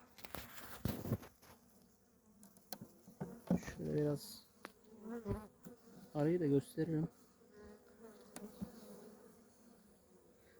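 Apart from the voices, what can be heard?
honey bees buzzing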